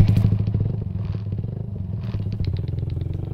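A motorcycle is ridden at a steady pace, its engine putting out a close, loud, rapid pulsing putter with slight variations in speed.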